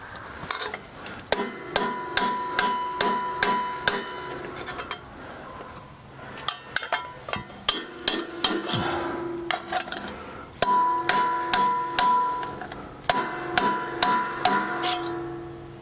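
Repeated hammer blows straightening bent metal brake parts, ringing sharply in quick bursts of strikes separated by short pauses, close and loud.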